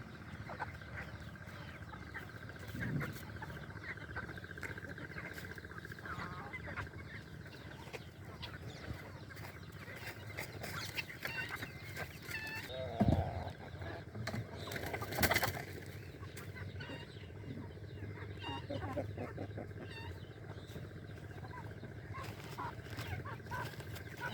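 Chickens waiting for feed cluck softly and intermittently on a farm, faint and somewhat distant over steady outdoor background noise, with occasional louder calls.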